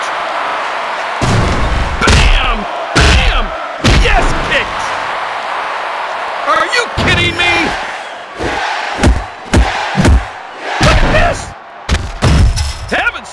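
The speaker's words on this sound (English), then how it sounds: "The crowd loves it." A video game wrestling arena crowd in WWE Mayhem roars and cheers in loud, surging bursts, punctuated by heavy in-ring thuds and slams during a Daniel Bryan versus Dave Batista match.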